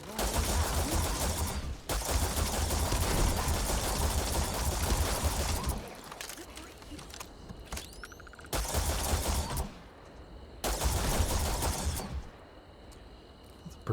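Gunfire in the Starfield video game comes in dense, sustained bursts of rapid shots, broken by short gaps and quieter stretches, with several separate volleys across the span.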